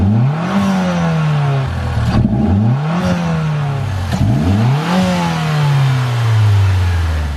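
A Mitsubishi Evo 10 with its hood open revs hard three times in a row. Each rev climbs sharply, then sinks back toward idle, loud and close with no talking.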